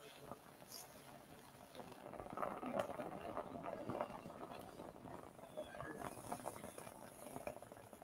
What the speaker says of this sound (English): So I'm going to go ahead and get that steam going.